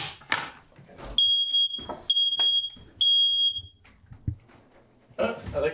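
A kitchen smoke alarm goes off during home baking, giving three loud, shrill, steady beeps about a second apart, with background clatter and brief voices around them.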